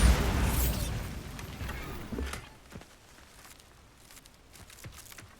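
A Bombarda blasting spell goes off in Hogwarts Legacy: a loud boom at the start rumbles and fades over about two seconds, followed by a smaller pop and then soft, scattered footsteps.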